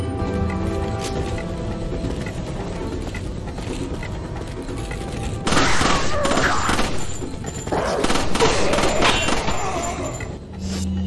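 Handgun gunfire from the Matilda in Resident Evil 4, in loud rapid bursts over a continuous busy game soundscape, with the densest shooting in the second half.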